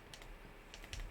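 Quiet bursts of computer keyboard typing, a few quick key clicks clustered at the start and end of a short stretch, faint and close with no talk.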